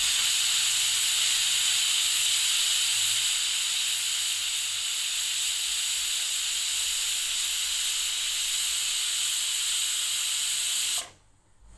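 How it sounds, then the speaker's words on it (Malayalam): A pressure cooker releases steam in a loud, steady hiss that runs unbroken for about eleven seconds, then cuts off abruptly. "രണ്ട് വിസിൽ കേട്ടിട്ടുണ്ട്."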